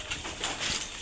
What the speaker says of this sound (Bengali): এখন আমি আমার কবুতরগুলোকে খাবার দেবো